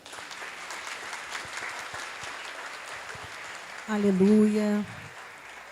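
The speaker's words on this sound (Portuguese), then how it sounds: "Você pode aplaudir ao Senhor?" A church congregation applauds at a graduation ceremony for a marriage course, a steady wash of clapping with a voice calling out loudly near the end.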